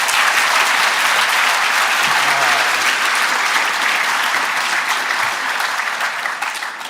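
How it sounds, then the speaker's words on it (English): A large audience applauds at a Rezzed 2013 game developer session, loud and sustained dense clapping filling the room from start to finish, with no speech over it. "Please give a big round of applause to Chris Avellone."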